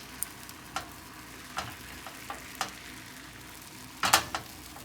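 Thin layer of oil frying in a pan while making a bento, with a soft steady sizzle broken by a handful of brief crackles and pops, one cluster louder near the end.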